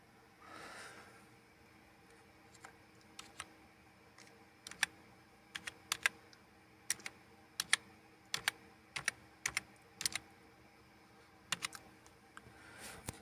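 Computer keyboard being typed on at a desk running Linux, a sparse, irregular run of crisp key clicks entering a password over a faint room hiss, with short pauses between bursts.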